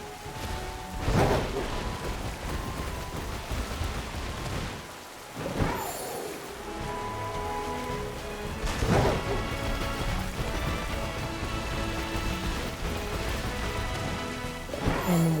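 Rain and thunder in a Pokémon video game, a continuous wash of rainfall broken by several loud thunder cracks and rumbles at irregular intervals.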